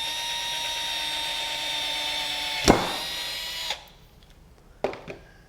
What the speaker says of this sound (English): Now I can take something like a hand drill and drill in there.